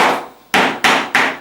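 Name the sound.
pin hammer tapping staples into canvas frame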